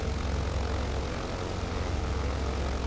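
A propeller aircraft lands on a Caribbean island route from St. Vincent to Grenada in Microsoft Flight Simulator 2020, with a steady, close engine and propeller drone throughout and no other sounds.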